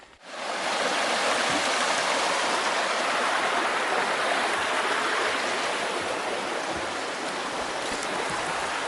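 A rushing stream of flowing water beside the Superior Hiking Trail in spring, loud and steady from start to finish with no voices.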